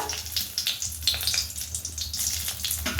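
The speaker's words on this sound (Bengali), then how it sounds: "তেল গরম হয়ে গেছে এতে আমি ফোড়ন দিয়ে দেবো প্রথমে ফোড়নে দেব দুটো শুকনো লঙ্কা" Two dry red chillies drop into hot oil in a pan for tempering, giving a steady close sizzle and crackle that holds for a few seconds without pause.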